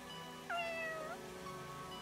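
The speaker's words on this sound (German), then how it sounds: "Miau." A single cat meow from the video game Fire Emblem Engage, clear and rising then falling, heard over steady background game audio.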